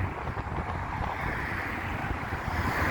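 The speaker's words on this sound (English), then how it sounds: "that's gone windy now" Strong wind buffets the microphone in a constant low rumble and roar, gusting steadily with no voices heard.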